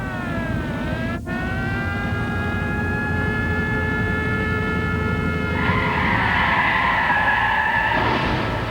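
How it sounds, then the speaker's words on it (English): A police motorcycle siren wails steadily over a rumbling engine, its pitch sliding downward, then shifting higher with a brief harsh burst near the end as the motorcycle skids. "a policeman on a motorcycle skidded and slammed in the rear end of his pickup"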